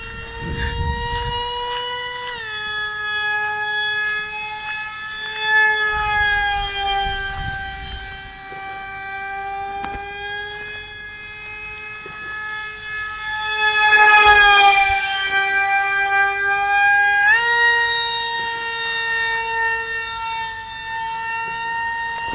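A high, whining turbine-like drone from a radio-controlled MiG-29 model jet holds steady with rising and falling pitch shifts, loud and continuous, like a small jet engine passing nearby.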